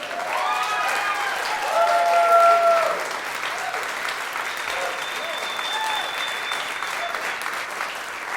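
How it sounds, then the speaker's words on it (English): Audience applause at an award presentation honoring courage, a sustained loud clapping crowd with a swell early on, some cheers and voices mixed in, continuing steadily. "That is not just your family clapping."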